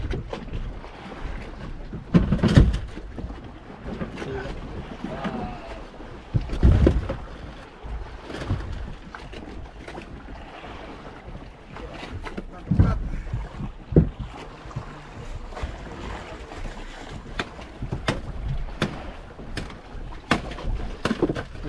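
A small fishing boat is paddled across open water on a multi-day fishing trip, with irregular splashing strokes and water sloshing over steady wind noise, and a few louder thumps along the way.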